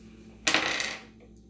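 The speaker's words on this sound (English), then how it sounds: "Yes, I roll the dice." Dice are rolled in a board game, a short bright clatter that rattles on a hard surface for about half a second before it settles, then a quiet room.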